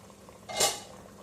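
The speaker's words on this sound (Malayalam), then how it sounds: "നമുക്ക് ലിഡ് ഓപ്പൺ ചെയ്ത് നോക്കാം." A metal lid lifted off a pot of boiling mixed vegetable kurma gives one short, close clatter and scrape, with quiet room tone before and after.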